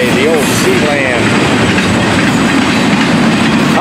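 A freight train with deep-well and tanker cars passing close on rails, loud continuous rumble and clickety-clack of wheels, with brief squealing tones early on.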